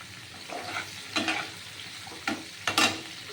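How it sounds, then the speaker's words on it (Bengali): Onions sizzle in a pan of hot oil at close range, a steady soft frying hiss punctuated by a few sharper bursts as the pieces are stirred, with no voices. "হ্যাঁ এই পেঁয়াজ ছেড়ে দিলাম"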